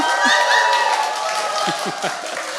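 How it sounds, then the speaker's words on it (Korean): Loud, dense applause from an audience at a political talk concert in Korea, a sustained wash of clapping and cheering with voices calling out over it. "이런 박수 소리는 난 처음 들어봐요, 진짜."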